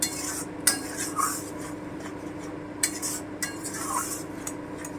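Spice masala cooking down in oil in a pan for capsicum paneer, a low steady background sizzle under occasional sharp scrapes and clinks of a spoon against metal.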